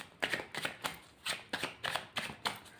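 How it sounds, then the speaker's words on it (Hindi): Tarot cards are shuffled and picked out, with about eight soft, close riffling bursts in a loose rhythm and no talk. "I am picking cards for you all."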